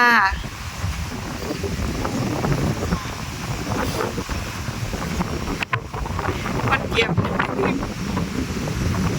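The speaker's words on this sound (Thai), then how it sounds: "ลมเย็นดีมากเลยจ้า" Cool wind buffets a microphone outdoors during a break at a mushroom-gathering spot with a view, a steady rumbling roar that runs throughout with a few faint voices underneath.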